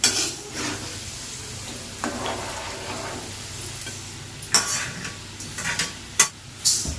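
Mustard seeds and fenugreek seeds dry-roasting in a pan, giving a low steady rustle with scattered scrapes and a few sharp clinks of a utensil near the end, close by and without speech.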